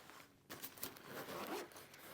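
Zipper on a Timbuk2 x Astro Gaming BP35 gaming backpack drawn open in one quiet, continuous rasping pull lasting under two seconds, close but faint, with no talk.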